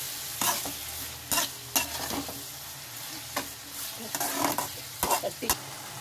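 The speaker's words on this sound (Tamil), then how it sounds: "நல்லா கிளறி விட்டுக்கலாம்." Onions sautéing with ginger-garlic paste in a pan, stirred with a spoon in scraping strokes over a low, steady sizzle. Several distinct scrapes and knocks come close by, with no talking.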